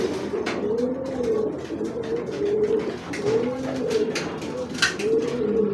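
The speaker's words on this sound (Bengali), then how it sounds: "খুবই কড়া একটা কবুতর ভাই" A saddle pied racing pigeon coos close by in a repeated rolling rhythm, about five deep phrases over a faint rustling background.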